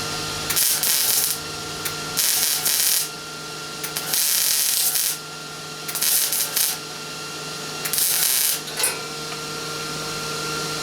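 Grinder working on the cab corner of a 1986 truck (a 250), with bursts of harsh metallic grinding that start and stop several times, separated by a steady running hum.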